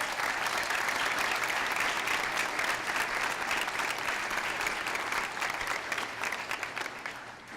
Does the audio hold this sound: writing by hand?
no